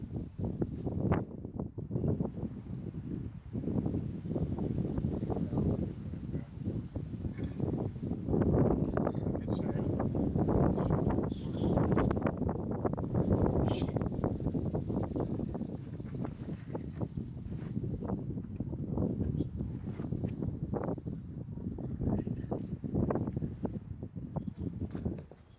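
Strong wind gusting outdoors at a woodyard, a steady rushing roar with rustling surges that swell and fade over about twenty-five seconds, buffeting close against the microphone.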